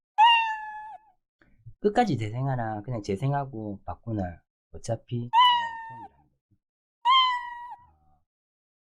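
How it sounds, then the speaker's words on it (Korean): A cartoon cat meow sound effect played in Scratch coding software sounds three times, clear and close, between stretches of someone speaking Korean. "똑같이 야옹 재생하기를 한번 해보겠습니다."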